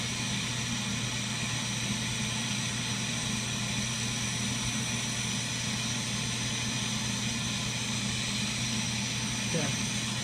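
A steady, broad hiss of a torch flame heating borosilicate glass for a marble runs throughout, loud and constant with a low rumble beneath it.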